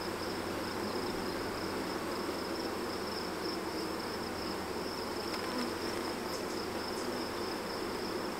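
A swarm of honeybees being moved out of a swarm trap gives a dense, continuous buzzing hum that fills the air evenly and stays close and steady throughout, with no talking.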